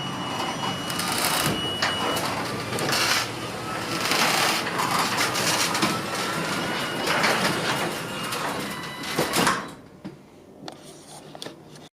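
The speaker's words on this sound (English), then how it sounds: "There's the door going down." A Ryobi motorized garage door opener rumbles and rattles steadily as the door closes, then stops abruptly near the end, leaving quieter background.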